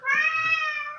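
A domestic cat gives one drawn-out, close meow lasting about a second, clear and alone.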